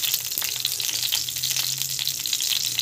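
Mustard seeds crackle and sizzle in hot oil in a home kitchen pan, a steady close frying hiss with dense popping throughout and no voices.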